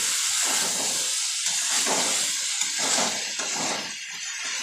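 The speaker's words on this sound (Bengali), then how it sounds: "এভাবে ভালো করে মশলার সাথে ফুলকপি আলুটাকে একটু ভাজা করে নিই" Cauliflower and potato frying with spices in a pan, a dense, steady sizzle and hiss with pulsing surges from stirring, close and alone without voices.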